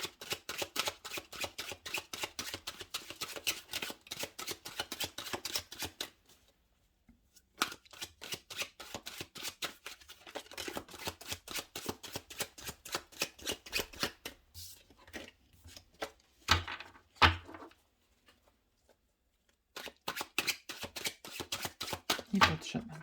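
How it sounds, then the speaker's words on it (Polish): Tarot cards being shuffled, a rapid riffling flutter in long bursts broken by short pauses and a few sharper taps, close up with no talking. "Ja karty wcześniej potasowałam, ale jeszcze chwilkę zawsze dla Was tasuję."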